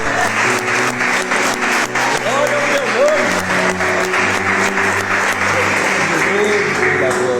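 A church congregation applauds the Lord in a sustained wave of clapping, with a voice speaking over it and held musical tones underneath.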